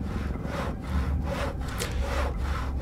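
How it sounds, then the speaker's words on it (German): A hand saw cuts through wood in the video game Penumbra: Overture, with several steady back-and-forth strokes rasping close and loud. "Hier, hier, hier, Säge mal schön."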